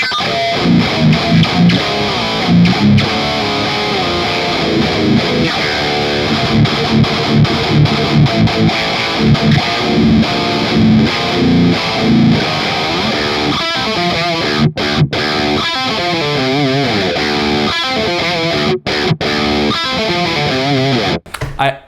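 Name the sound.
electric guitar through Kemper Profiler, Fireball 100 amp profile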